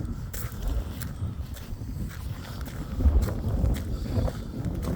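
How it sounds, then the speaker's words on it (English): Strong wind buffets a microphone outdoors beside a fishing lake, producing heavy low rumbling gusts that rise and fall throughout, with faint crackles and rustles and no clear speech. "Sorry if it's noisy, the wind's quite bad."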